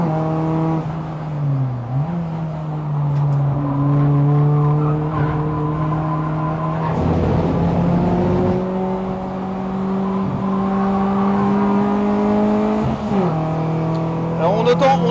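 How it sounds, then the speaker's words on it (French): Front-wheel-drive race car engine howls loudly close by, its pitch climbing and dropping through gear changes, while tyres squeal and skid through the corners in a long continuous run. "on entend autant le moteur qui gueule que les pneus qui crissent"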